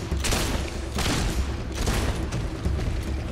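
Rapid bursts of gunfire in Fable 2 combat, several booming shots fired in quick clusters with heavy low thumps, loud and close.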